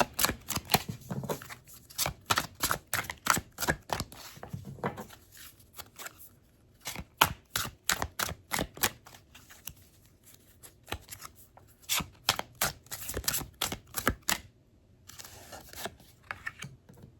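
Rapid papery flicks and riffles of cards being shuffled, in repeated bursts with brief pauses, close and crisp, no talking.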